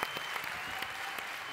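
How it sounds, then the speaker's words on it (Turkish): Warm applause from a TV talent-show audience for a singer, a brief, continuous wash of clapping with a few sharper claps standing out. "Bir kez daha alkışlayalım bence Emre'yi."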